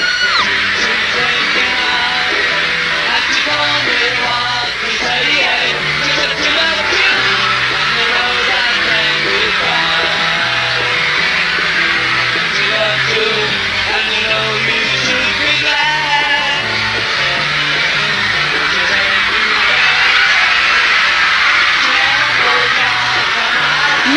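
A 1963 concert crowd screams and yells continuously at full volume, a dense, unbroken wall of shrieking fans with faint music buried underneath throughout.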